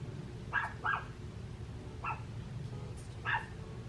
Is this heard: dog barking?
yes